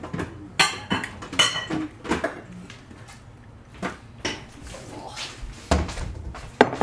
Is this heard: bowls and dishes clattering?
yes